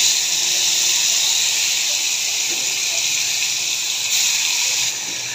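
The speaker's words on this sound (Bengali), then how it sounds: "তেলটা গরম হওয়ার জন্য মাছগুলো দিয়ে দিচ্ছি" Rohu fish pieces frying in hot oil: a steady, loud, bright sizzle and hiss runs throughout, easing slightly near the end, with no voices.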